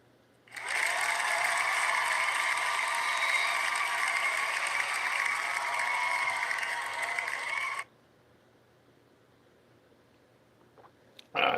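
A canned cheer effect plays on a livestream: about seven seconds of bright, dense crowd-like applause and cheering that starts abruptly and cuts off just as abruptly into near quiet.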